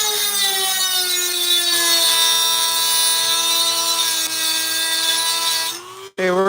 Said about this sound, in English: This is just basically a stone for Dremel.